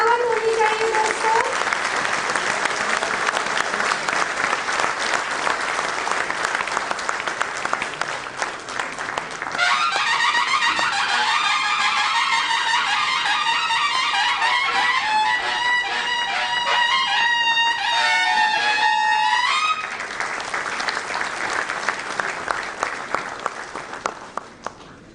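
Sustained audience applause fills a hall at a bank officers' association annual general meeting during an honouring ceremony, with background music entering midway and a voice briefly heard near the start.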